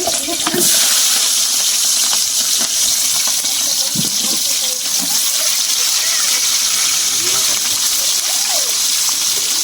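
Sliced onions go into a hot pan of oil for chicken biryani, giving a steady broad sizzle and frying hiss throughout with occasional stirring clicks and scrapes, a voice speaking faintly underneath.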